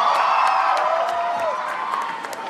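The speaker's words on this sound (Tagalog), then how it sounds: "Parinig naman ako ng palakpakan ng mga crowd." At a rap battle featuring Abra and Loonie, a crowd cheers, whoops and applauds loudly. The roar stays steady, with sharp whistles and shouts cutting through it.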